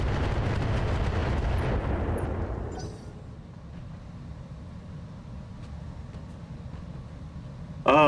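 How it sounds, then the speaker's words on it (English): A volley of missiles fires in the mech combat game Battletech: a loud roaring blast rumbles and fades over about three seconds into a low quiet hum, with a brief sharp sound at the very end. "If we hit with enough missiles, we will anyway."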